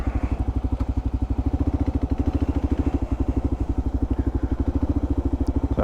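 A Kawasaki KLR650 single-cylinder engine idles close by with a steady, rapid thumping pulse and a faint mechanical clatter. It runs alone with no talk.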